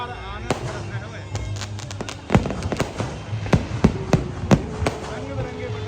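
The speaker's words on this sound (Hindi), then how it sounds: "रंग बिरंगे पटाखों के माध्यम से पूरे बरसाना धाम अलौकिक स्वरूप प्रदान करे हुए" Colorful firecrackers burst at the Radha Rani temple in Barsana during a Radhashtami festival night: sharp, irregular cracks and pops, several in quick succession, ring out over a steady crowd-like din.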